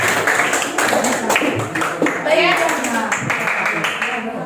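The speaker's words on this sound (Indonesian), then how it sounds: "tepuk tangan dulu buat kelompok 3" A class of students in an art and culture lesson claps for group 3 after their presentation, brisk close hand claps under ongoing children's chatter and voices.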